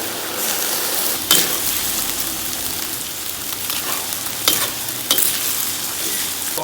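Pork stir-fries with scallion and ginger in a hot wok, a dense continuous sizzle with a few sharp spatula clacks against the pan, close and unbroken by speech.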